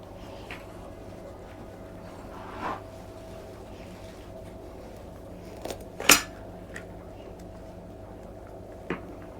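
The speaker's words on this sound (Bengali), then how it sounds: "এখন লাউটা আমি কাটবো।" A home-grown bottle gourd is cut with a knife, giving a few sparse, crisp slicing cracks and clicks against a quiet kitchen background, with one sharper, louder cut standing out near the middle.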